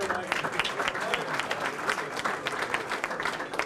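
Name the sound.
dinner audience applause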